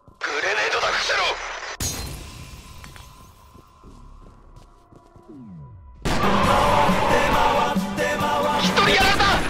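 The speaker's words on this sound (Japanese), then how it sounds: "代わりに投げてやる。 グレネードだ、伏せろ。" In the shooter game F.E.A.R., a burst of crashing, shattering noise and a heavy blast sound loud and close, with a quieter stretch of game ambience and distorted voices before and after.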